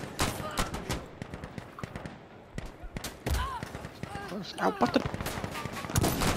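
Gunfire in a co-op shooter video game during a sandstorm match, with rapid bursts and scattered sharp shots at close range that come and go in clusters, while players talk excitedly over it.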